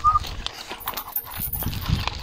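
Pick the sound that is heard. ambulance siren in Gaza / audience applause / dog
dog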